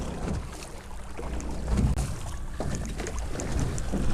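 An electric trolling motor drives a boat over inshore water, producing a steady low hum and water wash with wind buffeting the microphone, fairly close and continuous with no voices.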